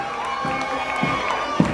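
Young athletes cheer and shout from the stands at a youth sports games event, a steady crowd roar with a few brief louder whoops rising above it.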